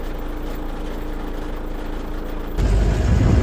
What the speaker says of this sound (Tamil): டிராக்டர் அண்ணா வாங்க.